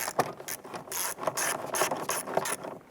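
A hand ratchet clicks in quick repeated bursts while tightening the front bolt on the exhaust manifold of a 1999-2004 Jeep Grand Cherokee 4.7L V8, close and fairly faint, with no talk.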